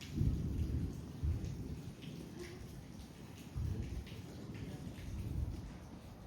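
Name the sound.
rain and thunder in mountain village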